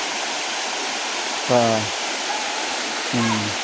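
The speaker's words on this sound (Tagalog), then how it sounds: "Itong tubig na to galing to dun sa taas ng bundok." Nalalata Falls in Bula, Camarines Sur, Philippines, roars as a steady, loud broadband rush of falling water, with a voice briefly speaking over it twice.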